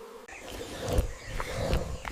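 Angry bees give a buzzing drone that swells and fades at moderate loudness, with a few sharp clicks and rustles mixed in.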